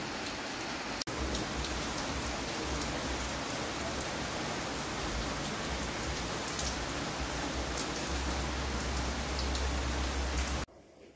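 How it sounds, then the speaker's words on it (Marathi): Rain falls in a continuous, dense hiss of drops striking surfaces, steady and fairly loud for about ten seconds before stopping abruptly. "पाऊस"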